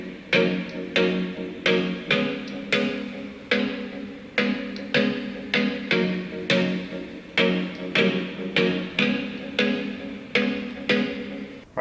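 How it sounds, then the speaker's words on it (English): Plucky, mallet-like synth from Serum layered with chords in a happy trap beat, short bright struck notes in a steady bouncing pattern, close and alone with no voices. "really plucky or malletty sound rather"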